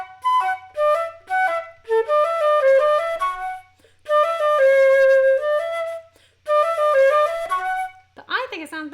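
A solo passage from Dutilleux's Sonatine played as written, in quick runs of bright, clear notes broken by short pauses across three phrases, with a brief voice at the very end.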